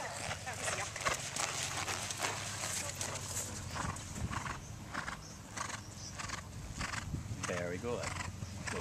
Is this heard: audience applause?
no